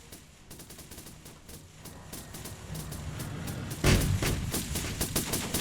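Tanks and small arms firing in a video game battle, a dense stream of rapid gunfire bursts building in loudness, with a heavier blast near the middle, no talking.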